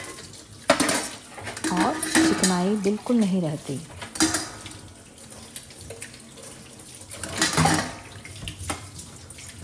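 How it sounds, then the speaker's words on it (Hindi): Dishes being washed by hand at a kitchen sink with lukewarm tap water: scattered clinks and knocks of pots and utensils with running-water wash, heard close under someone talking in Hindi. "ये रात के जो बर्तन हैं ये धो लूँगी।"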